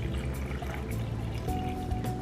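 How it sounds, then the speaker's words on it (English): Water is poured into a Ninja blender jar over dressing ingredients like vinegar, ginger and lemon, a short close trickling, gurgling stream that fills the jar steadily without speech. "Then to bring it all together, we have the water."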